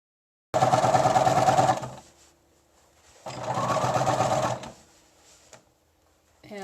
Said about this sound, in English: I'm just going to sew right on top of it